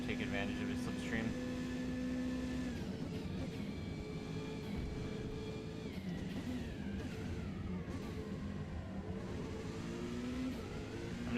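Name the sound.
race car engine in Forza Motorsport video game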